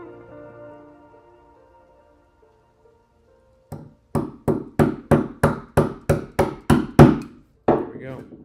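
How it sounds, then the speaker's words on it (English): A chisel driven into a live-edge walnut slab by a mallet, about a dozen sharp, evenly spaced knocks in quick rhythm, close and loud after a quiet pause, with speech at the start. "I think I'm just going to set my chisel in it at this point"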